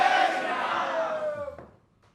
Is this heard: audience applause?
yes